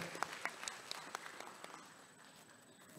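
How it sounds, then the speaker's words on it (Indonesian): Lively applause from attendees at a regional association's inauguration ceremony in Bogor, fairly distant and soft, with a few sharper claps standing out early before the sound thins into a low background patter. "beri tepuk tangan yang meriah"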